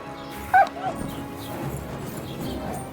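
A dog in the video game Kingdom Come: Deliverance II lets out a single sharp, close yelp followed by softer whimpering, amid background game sounds and low voices.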